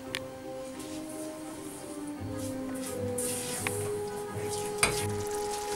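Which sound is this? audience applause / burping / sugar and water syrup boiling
sugar and water syrup boiling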